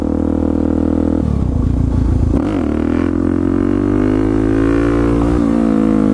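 A supermoto motorcycle revving hard through a wheelie attempt, its loud close engine note climbing and holding high with steady harmonic drone, a brief throttle dip midway, then pulling again.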